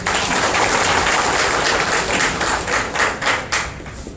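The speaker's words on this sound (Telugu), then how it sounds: "ఒకసారి చప్పట్లు కొట్టండి" Close, dense clapping from an audience at a bus stand inauguration event in Telugu-speaking India, steady at first and then breaking into uneven bursts before thinning out.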